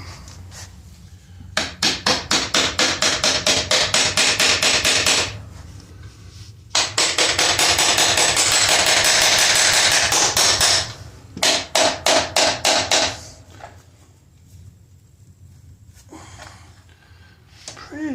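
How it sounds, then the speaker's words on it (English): A hammer strikes parts of a wrecked 2007 Kawasaki ZX10R motorcycle in fast, rhythmic runs of sharp taps, close and loud, pausing briefly between bursts. "Let's see if we can tap this thing off with the hammer."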